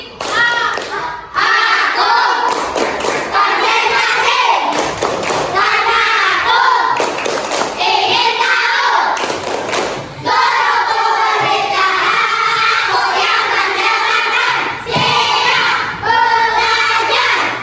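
Schoolchildren in a classroom repeat a clapping concentration chant, with steady rounds of hand claps and thuds mixed with lively group voices that run throughout.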